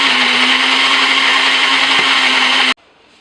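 A kitchen blender whirs loudly and steadily close by, mixing ingredients for a lotus dessert, then cuts off abruptly, leaving near silence for the final half second.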